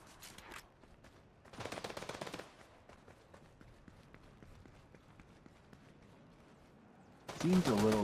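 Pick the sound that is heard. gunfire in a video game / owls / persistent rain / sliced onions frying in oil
gunfire in a video game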